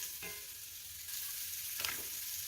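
Brown mushrooms fry in a pot for boeuf bourguignon, a quiet continuous sizzle with two brief scraping sweeps of a spoon stirring them, up close.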